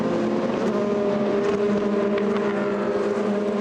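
GT race cars at Spa-Francorchamps scream past in traffic, several engines droning together in a loud, sustained whine with shifting pitch, steady and continuous at a moderate distance.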